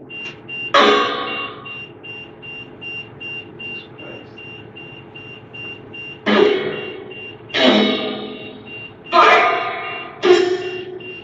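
A device gives a steady, repeating high-pitched beep in an even rhythm, with louder bursts of sound breaking in over it at intervals.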